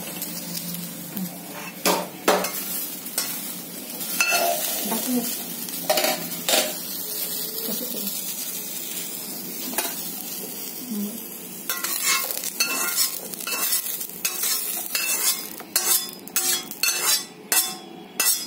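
Cluster beans being scraped and stirred out of a hot pan with a metal spoon, repeated clinks and scrapes against the pan over a faint sizzle, with bursts of sharper clattering toward the end.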